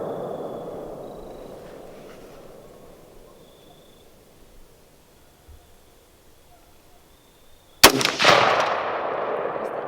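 A single sharp rifle shot at a shooting range cracks loudly near the end, after several seconds of quiet outdoor background, and a short ringing tail follows.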